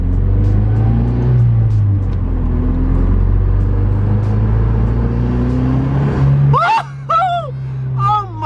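A Mazdaspeed car fitted with a new turbo inlet pipe and cold air intake idles and revs loudly up close, a steady deep engine drone with rising revs, then excited voices shout near the end.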